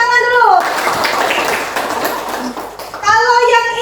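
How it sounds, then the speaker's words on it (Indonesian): A class of schoolchildren in a maths lesson clapping together, a brisk burst of applause lasting a few seconds between a teacher's spoken lines. "Tepuk tangan dulu."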